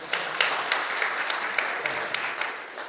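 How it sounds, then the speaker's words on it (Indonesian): An audience at a bilingual Indonesian-English gathering applauds, giving a continuous, moderately distant wash of many hands with a few sharper individual claps standing out. "Tepuk tangan dong"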